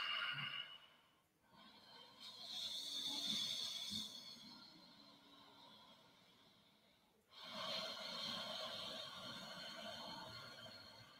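Slow ujjayi yoga breathing, a long audible inhale drawn through a constricted throat, heard in two extended breathy swells separated by a brief pause, close and soft with no talking.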